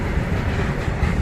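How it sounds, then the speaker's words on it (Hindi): A train arrives at Bareilly Junction station with a steady, loud, close rumble of rolling wagons, no voices present. "हमारी ट्रेन आ चुकी है"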